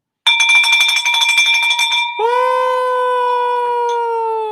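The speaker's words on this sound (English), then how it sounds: "I'm so glad you got a new bell" A loud, close electronic doorbell-style chime rings out alone, a sustained tonal ding that switches to a lower, gliding second note and holds to the end, with no talking.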